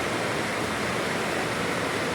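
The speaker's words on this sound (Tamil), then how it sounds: "சேர்த்து ஒரு ஆறாக உருவாகி அழகாக ஓடிக்கொண்டு இருக்கிறது" The Kullu river, fed by melting mountain snow, rushes in a steady, dense roar of flowing water, loud and unbroken with no voices or other sounds on top.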